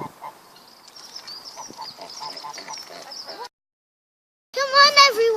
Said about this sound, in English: Go and have a look at the ducks.